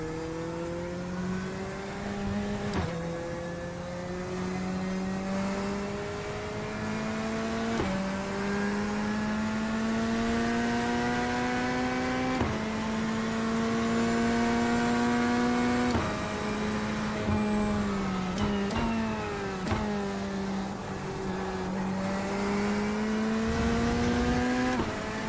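A race car engine in a sim racing game revs up through the gears again and again, each climbing whine cut by a quick shift, sustained and loud across the whole stretch.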